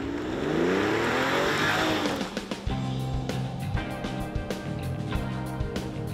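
A Mercedes E450 4MATIC coupe with a six-cylinder engine accelerates hard, a smooth rising rev swelling up then settling into a steady throaty drone with quick gear-change dips, loud and close with no talking.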